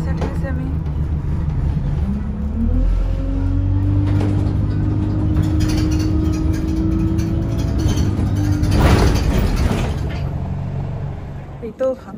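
Riding inside a bus in London on a sunny, windy day: a steady low engine rumble and road noise fill the cabin, with a rising drone and a brief rattling burst near the end, and a voice talks faintly at times.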